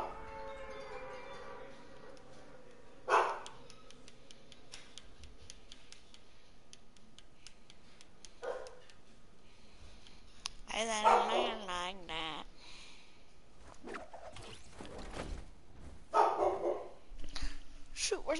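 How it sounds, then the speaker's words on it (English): A puppy yelps and whimpers in a few short bursts, some high-pitched and wavering, between quieter stretches, with a person talking nearby. "You are a beautiful puppy."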